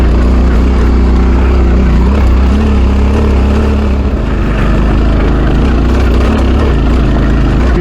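Adventure motorcycle engine labouring uphill in first gear along a ridge trail, a steady loud low drone with slight rises and dips in revs throughout, continuous and close, with no talking.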